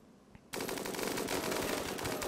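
Sustained automatic gunfire from colonists in the colony-sim game RimWorld erupts after a brief quiet moment, a dense, loud barrage of overlapping rapid shots continuing to the end.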